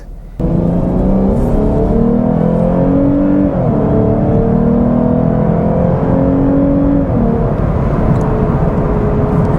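A 2021 Lexus IS 350 F Sport sedan engine revs loudly and continuously toward its 6,500 RPM redline, its pitch climbing and dipping through smooth gear changes, close and sustained.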